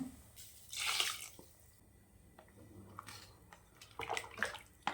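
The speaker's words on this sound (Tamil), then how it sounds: "இந்த அரைச்சி வச்ச மசாலாவை எடுத்து ஊற்றிடுங்க" Ground masala paste poured into a pot of village-style goat leg curry (aatu kaal kulambu), soft wet splashes and drips, fairly quiet and close, with no talking.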